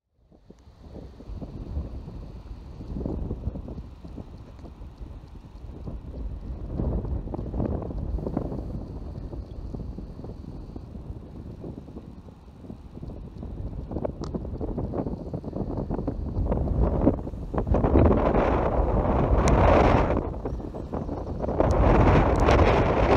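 Strong wind gusts buffet a parked van in the Berwyn hills, a steady loud roar that surges and swells in waves throughout, with heavy low rumble and no voices.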